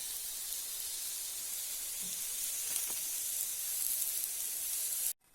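Steady sizzling of eggplant frying in a small amount of oil, an even hiss throughout that cuts off abruptly at the end.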